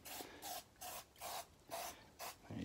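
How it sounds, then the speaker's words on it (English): Six short hissing bursts of aerosol cooking spray onto a Honda CBR1100XX clutch gasket in an even rhythm, close up, with brief pauses between each spray. "you spray both sides of the gasket with the cooking spray"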